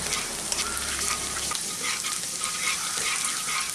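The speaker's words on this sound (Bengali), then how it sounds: "তো এখন আমি এটাকে আঁচটাকে কমিয়ে হালকা করে ফ্রাই করে নিচ্ছি।" Dry red chillies and fenugreek seeds frying in oil over a low flame, a soft, even sizzle with light stirring taps; a low hum fills the first second and a half.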